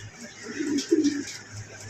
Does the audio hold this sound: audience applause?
no